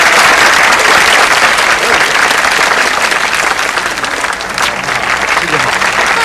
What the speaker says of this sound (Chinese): 来，掌声啊！